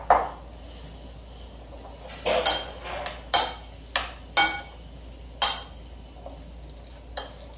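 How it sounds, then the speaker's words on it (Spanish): Chopped egg and other Russian salad ingredients are stirred in a bowl, with a utensil scraping and clinking against the sides in about seven distinct strokes, close and fairly loud with no talking. "Mezclamos."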